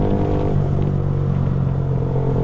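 A Yamaha R15 V3 motorcycle being ridden, its engine a loud, steady, close rumbling drone with a constant pitch throughout and no talking.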